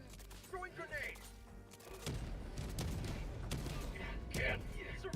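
Grenade blast in the Helldivers 2 battlefield, a sudden heavy boom about two seconds in that gives way to a sustained rumbling roar of explosions and gunfire, loud and dense, with a voice talking faintly at the start.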